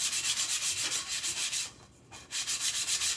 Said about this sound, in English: I'm just going to quickly do a rough sand and get that to where it'll take my paint better.